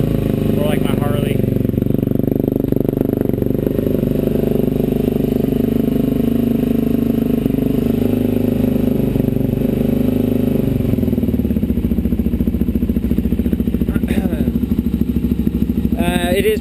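A Suzuki DRZ400SM supermoto idles loudly indoors in a shop, its exhaust giving a steady, booming thump with a slight dip in pitch near the end and someone talking over it.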